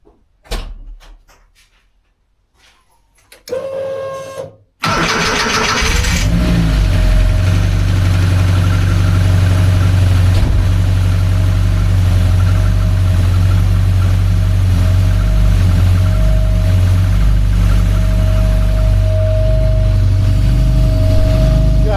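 A 1982 VW Westfalia engine cranks and catches after a few quiet seconds of small knocks, then settles into a loud, steady, close-up idle that runs unbroken to the end.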